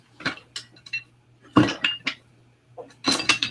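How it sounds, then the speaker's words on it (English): A vegetable knife strikes a cutting board in separate clicky chops and scrapes, with metallic clinks as food is scooped, close and fairly loud, in uneven bursts with pauses between them. "Here's the vegetable knife. So same chopping motion, straight up and down, but watch, you can scoop more."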